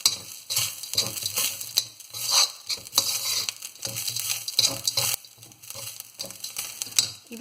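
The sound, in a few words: onions and spices being sautéed and stirred on low flame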